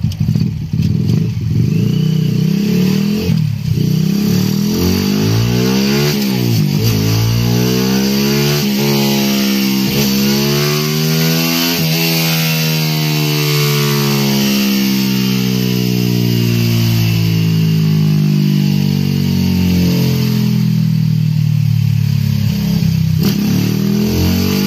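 A bored-up 155cc Yamaha Jupiter MX motorcycle engine revving hard on a dyno through rising and falling sweeps, loud and close, then holding high revs steadily.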